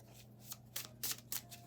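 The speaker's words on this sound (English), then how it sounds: "Let's shuffle again." Tarot cards being shuffled by hand, a quick series of papery riffling bursts with soft slaps and a steady low hum underneath, fairly close and not loud, with no talking.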